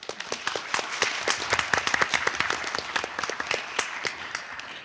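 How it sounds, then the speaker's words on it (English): A school board meeting audience breaks into a round of applause, many hands clapping in a sustained, moderately loud burst lasting several seconds. "Please give a round of applause."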